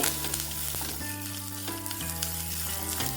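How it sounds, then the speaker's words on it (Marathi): Potato bhaji with curry leaves sautéing in a hot pan gives a steady, close sizzle and crackle that runs throughout under soft background music. "इथे कढीपत्ता घालायचा आपल्याला, पुन्हा एकदा आपल्याला छान हे परतून घ्यायचं आहे"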